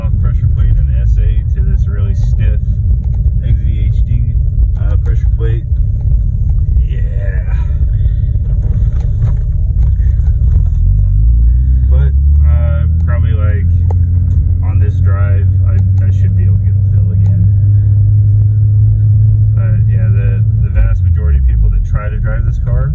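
A car powered by a Renesis 13B rotary engine, fitted with a stiff XDHD clutch pressure plate, drones loudly and steadily as it pulls away and climbs in pitch, with someone talking over the engine.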